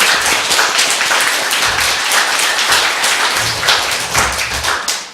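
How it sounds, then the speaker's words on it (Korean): Congregation at a Buddhist meditation temple dharma gathering giving a loud round of applause, close and steady clapping with a few dull thumps beneath it. "큰 박수 좀 부탁드리겠습니다."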